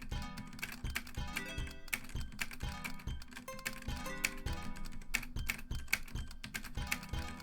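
Rapid, continuous clatter of computer keyboard keys pressed at high speed, dense and steady throughout over a backdrop of game music.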